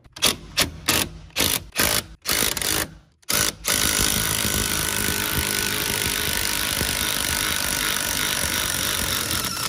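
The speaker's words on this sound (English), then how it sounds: "So now I'm gonna release the spring." A C8 Corvette suspension spring is released with spanners: a run of sharp, close ratcheting and mechanical clicks, followed by a steady, loud broadband mechanical rush that continues to the end.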